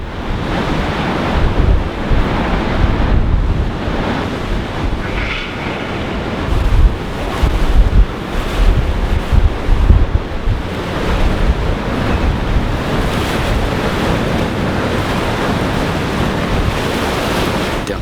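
Storm Ciaran's wind gusts, topping 140 km/h, roar loudly and continuously while crashing waves surge and break beneath, with no voices.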